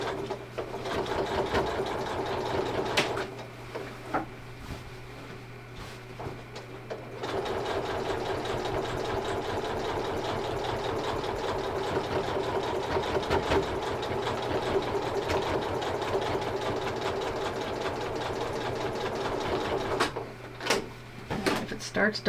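A quilting sewing machine stitches along a seam of a heavy quilt, a fast steady mechanical whir with rhythmic needle ticking, pausing briefly twice before running on.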